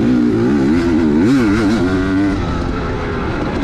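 Racing motorcycle engine at full throttle during the first lap of a 2022 OMRA Outlaw Racing Gunslinger GP, loud and close, with steady high revs that rise and waver through gear changes before settling into a sustained drone.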